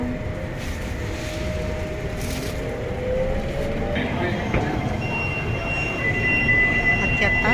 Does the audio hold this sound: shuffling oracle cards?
no